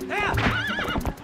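A horse neighs in the Zelda Twilight Princess video game, a loud rising and falling whinny lasting about a second, with faint hoofbeats beneath it.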